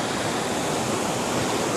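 Waterfall on the Zelenytsia river roaring as a steady, loud broadband rush of falling water, close by and continuous with no other sounds.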